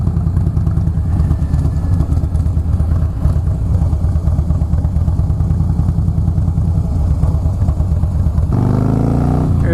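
A Harley-Davidson Fat Boy S motorcycle rumbles steadily at close range on a ride, its deep engine note constant throughout with a brief shift in pitch near the end.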